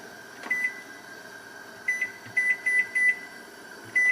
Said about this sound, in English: start our timer